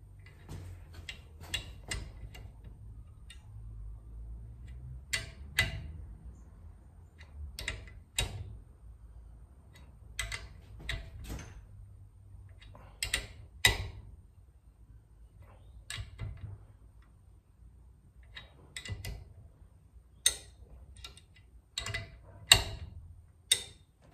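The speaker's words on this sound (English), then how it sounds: "I'll torque up these nuts now and check them on a flat surface" Engine connecting rod nuts on a Holden grey motor are tightened with a torque wrench to 35 foot-pounds, producing sharp ratchet clicks in short clustered bursts separated by quiet gaps, close and clear.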